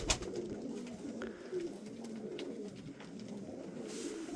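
Antique Mardin pigeons coo steadily at close range, a continuous low murmuring chorus of several birds with no talking.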